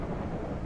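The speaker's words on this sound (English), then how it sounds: "Wow, it's raining." Steady rain with a low rumble of thunder in the video game No One Survived, a brief, dense wash of hiss and low roar with no voices.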